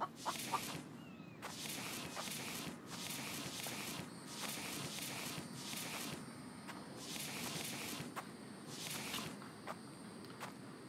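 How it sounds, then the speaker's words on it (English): Chicken clucking in The Infected survival video game, faint repeated clucks over a steady ambient outdoor bed with footsteps and short bursts of rustling, no talking. "I can hear the chicken."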